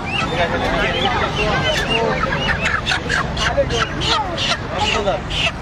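Live chickens cluck and squawk in quick, overlapping bursts while being passed out as Eid charity to poor people, with a crowd murmuring and voices talking throughout.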